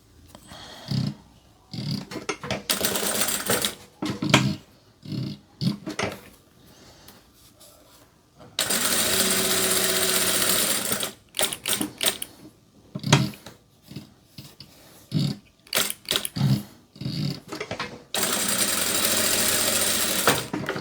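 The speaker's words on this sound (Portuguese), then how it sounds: "Então, é só seguir costurando." A sewing machine stitching fabric in a sewing workshop runs in repeated bursts, some short and some held for several seconds, separated by quiet pauses and small handling clicks.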